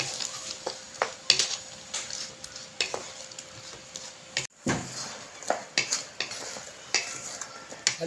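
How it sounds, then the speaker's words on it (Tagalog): Saba bananas simmering in coconut milk are stirred in a pan, with soft repeated scrapes and clinks of a utensil over a gentle bubbling sizzle, close and steady. "Halu-haluin lang natin hanggang maluto yung ating saging saba."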